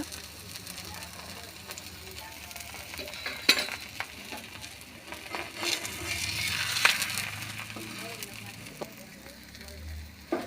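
Wheat flour adai fries in oil on a pan over low heat, a constant crackling sizzle with a few sharp pops and utensil taps, swelling briefly in the middle.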